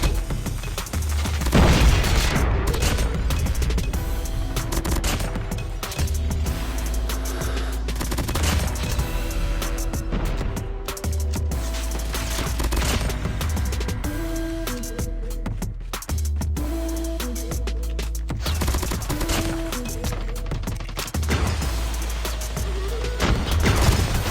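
Sustained rapid automatic gunfire from a Fennec submachine gun in Call of Duty Mobile, dense bursts with booming impacts running almost continuously at high volume.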